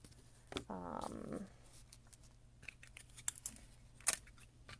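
Scissors snip yarn during a crochet gnome wall hanging project, a few quick, crisp cuts close by amid light rustling and handling noises.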